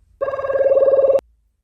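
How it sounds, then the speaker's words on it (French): A telephone rings once in a reality-show house, a single clear electronic trill lasting about a second with fast warbling pulses, loud and close, then silence. "Merci de mettre le télémystère sur haut-parleur, Zina."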